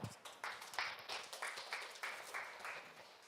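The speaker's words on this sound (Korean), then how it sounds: "다시 한번 큰 박수 부탁드립니다" A small audience at a social-enterprise venture forum gives a short round of clapping, faint and somewhat distant, with individual claps rising and falling in a loose rhythm.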